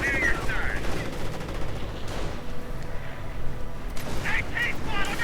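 Rifle fire crackles in bursts from infantry riflemen hitting a Panther tank from the side in a World War II strategy game, with dense overlapping battle noise throughout and a few sharp tonal whines near the start and end.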